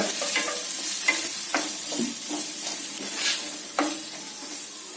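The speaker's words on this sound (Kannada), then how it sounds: "ಮೂರು ಈರುಳ್ಳಿಯನ್ನು ಸಣ್ಣದ ಕಟ್ ಮಾಡಿ ಇಟ್ಕೊಂಡಿದ್ದೀನಿ ಅದನ್ನ ಹಾಕೊಳ್ತೀನಿ ಇದನ್ನ ಕ್ಲೀನಾಗಿ ಫ್ರೈ ಮಾಡ್ಕೊಳ್ಳೋಣ" Three finely chopped onions and curry leaves frying in oil for tomato curry, a loud continuous sizzle with a spoon stirring and scraping the pan at a steady rhythm, heard close with no speech.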